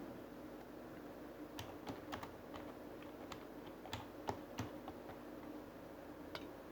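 Scattered, quiet keystrokes on a computer keyboard tap out text, the soft clicks coming singly and in small clusters with no talking.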